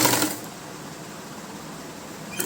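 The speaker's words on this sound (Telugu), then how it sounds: "పెట్టి స్టిచ్ వేసుకొని వచ్చేయండి." An electric sewing machine stitches fabric for a baby frock, giving a steady, even mechanical whirr after a brief louder start, close by and with no talking.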